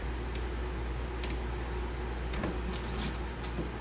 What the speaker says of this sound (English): Let's get this all emptied and drained out.